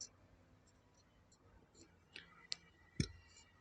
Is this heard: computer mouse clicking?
yes